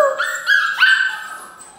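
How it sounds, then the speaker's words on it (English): Eight-week-old doodle puppies give high, thin yips and whining barks close by, a few overlapping calls that trail off into soft whimpers, with no talking. "Here are Aspen and Captain's puppies."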